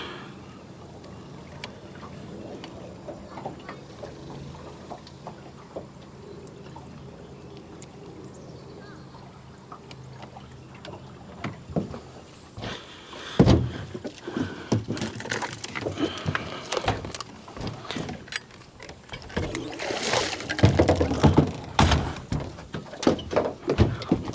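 A motorboat runs back upstream on a river for another fishing drift. A low, steady engine hum gives way to louder, rougher surging and splashing, with bursts of wind and water noise.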